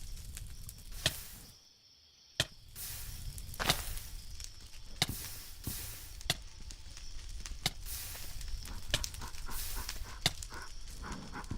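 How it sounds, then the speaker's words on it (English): A dog in Minecraft gives several short, sharp barks spread across the stretch amid constant game ambience, with a brief near-silent gap early on. "I heard a dog somewhere."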